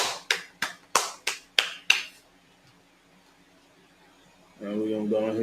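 Seven sharp, evenly spaced claps ring out close and loud during a Sabbath service, each one a quick crisp smack, followed after a pause by a voice starting to speak.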